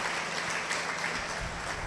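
A church congregation claps during a sermon on Revelation 4:8, a steady, fairly soft wash of many hands clapping together with no voices.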